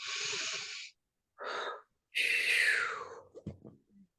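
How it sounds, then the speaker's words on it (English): Slow, deep breathing exercise during a guided relaxation session: a long audible inhale, a short pause, then a strong sighing exhale tapering off, close and clear with no talk. "And a deep breath in and out."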